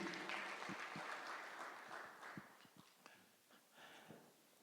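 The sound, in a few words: audience clapping for athletes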